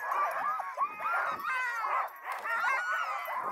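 Arctic sled dogs in harness on Svalbard, a dense chorus of excited high yips, whines and barks close by, overlapping continuously throughout.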